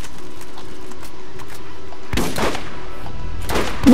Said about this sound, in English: I forgot it fires all the shots at once, this thing